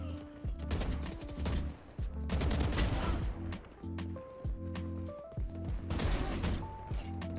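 Repeated bursts of video-game gunfire, a player being shot at through a wall, crack out in dense volleys across the whole stretch, with short pauses between strings of shots and no talking.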